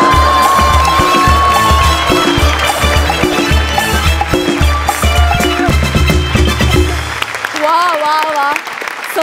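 Audience applause and cheering fill a Marathi comedy sketch show stage, a steady clapping roar mixed with music and voices that thins out near the end.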